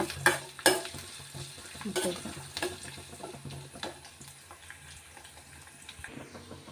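Lemon pickle mixture sautéed and stirred in a pan, with a few sharp scraping knocks near the start, then a soft continuous sizzle and gentle stirring that fade slightly toward the end, no voices.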